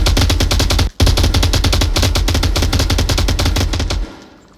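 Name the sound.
gunfire in the VR video game Onward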